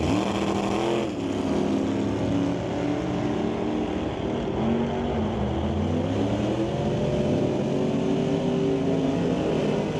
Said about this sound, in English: The 1971 Dodge Demon going to face off against Dave Stobie in the 56 Corvette.